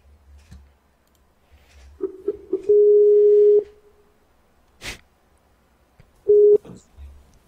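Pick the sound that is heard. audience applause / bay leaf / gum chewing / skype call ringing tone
skype call ringing tone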